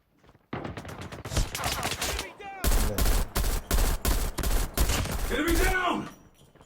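Rapid bursts of M16 assault rifle fire in the video game Call of Duty: Mobile crack in quick succession, loud and close, with short pauses between volleys and brief voices mixed in.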